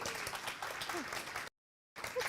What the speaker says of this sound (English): How about a round of applause for Kerry?